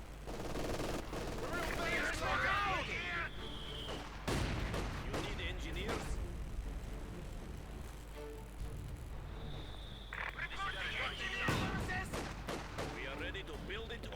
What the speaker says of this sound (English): Sturmgeschütz coming in fire there with the field gun